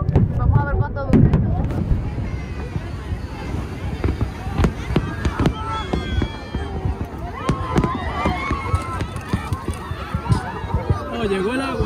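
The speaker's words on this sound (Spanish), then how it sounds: "Llevamos por 10 minutos de fuegos artificiales." A New Year's fireworks display in Chile, with loud irregular bangs and crackling bursts coming thick and fast, some near and sharp, over a chattering crowd and people talking close by.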